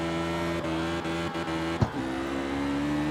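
A hot rod engine in the CarX Street racing game holds a steady high rev. A sharp clutch-kick blip and stutter interrupts it, then it settles back to a sustained whine with no talking.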